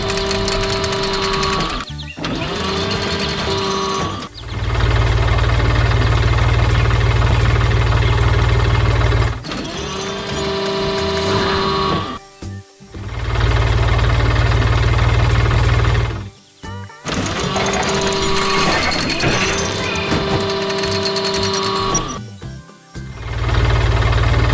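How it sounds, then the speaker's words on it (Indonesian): Engine of a blue tractor with a front loader in an animated farm scene, a loud steady mechanical drone and buzzing whine that cuts off and restarts several times, with brief pauses between the running stretches. "Lihat, traktor biru dengan loader sedang beraksi di tengah kebun hijau yang penuh warna merah"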